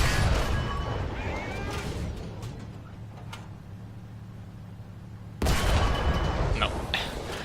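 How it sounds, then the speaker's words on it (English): A War Thunder tank cannon firing 76mm high-explosive shells: loud crashing blasts open the stretch, give way to a low engine hum, and then a sudden heavy boom strikes near the end. "Is it a 76mm high explosive shell we're firing?"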